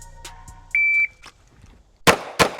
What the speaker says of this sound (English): let's go ahead and get the timer going and see what we got.